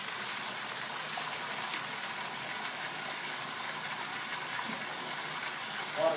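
Water runs from a bathtub faucet during a home inspection, a steady broadband gushing hiss that stays even and close throughout, with no speech over it.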